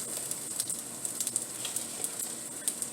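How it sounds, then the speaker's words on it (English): Vegetables stir-frying in a pan with sesame oil, a steady soft sizzle with scattered small pops and crackles, fairly quiet and close, with no voices over it. "just stir fry this up"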